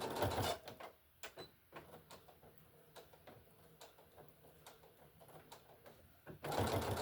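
A sewing machine stitches a pocket in short, rapid mechanical bursts with brief pauses between them, close and fairly quiet, with louder handling noise at the start and end.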